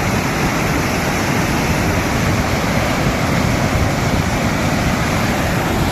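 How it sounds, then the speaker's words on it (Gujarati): Loud, continuous roaring rush of heavy water overflowing the Navlakha dam in rain, dense and unbroken like a spillway or torrent, with rain and wind noise blending in. "પાણી પણ બહુ વહી રહ્યું છે અને વરસાદ ચાલુ જ છે"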